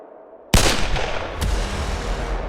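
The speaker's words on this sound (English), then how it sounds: "he hears 2 loud gunshots rumble beneath his feet" Two sharp, loud gunshots beneath the floor of a house, the first sudden and booming, the second about a second later, each followed by a rumbling reverberating tail.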